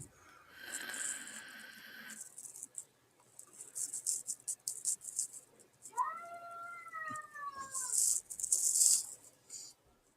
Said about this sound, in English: Some cat isn't happy right now.